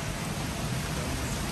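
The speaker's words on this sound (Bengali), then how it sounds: "বৃষ্টি কমুক তারপর" Steady rain pouring down outdoors near a bael tree, a dense, even hiss of drops falling on surfaces at close range, continuous and unbroken for the whole stretch.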